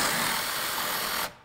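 A power tool, likely an impact driver, runs steadily and close up while backing out the bolts that hold the bottom of a vehicle's grille, then cuts off abruptly near the end.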